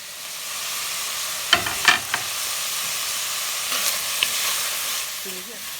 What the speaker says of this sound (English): You can hear the nice sizzle now.